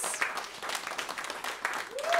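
A comedy show audience applauding the host, a continuous wash of clapping from a crowd in a room at moderate loudness with some voices mixed in.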